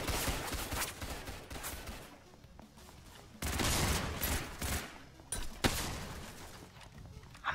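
Gunfire in the Roblox game Ragdoll Universe comes in dense, noisy bursts of rapid shots, steady at first, then louder and more intense, with a few sharper single cracks near the end.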